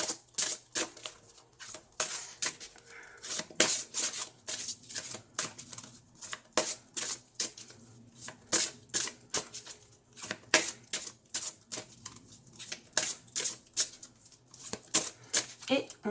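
Gaia oracle cards are shuffled by hand in a steady run of crisp, riffling bursts that recur throughout, with a soft voice talking intermittently over them.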